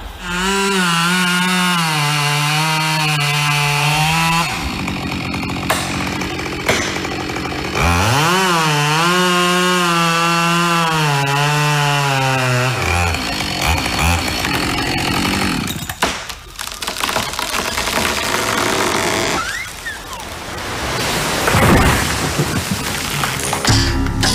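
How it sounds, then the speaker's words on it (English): Husqvarna chainsaw cutting wood in dusty Australian conditions: a loud, close engine whining at high pitch, dropping and revving again between cuts, with the tone shifting as the chain bites into the wood. "Neil's main challenge when he's operating a chainsaw in Australia is the dusty conditions"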